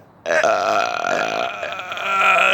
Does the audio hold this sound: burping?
yes